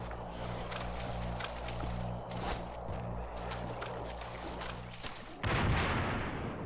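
A stun bomb goes off in Dead Island Riptide, a sudden, fairly loud broadband blast late in the moment that rises over a steady rumbling game background scattered with thuds.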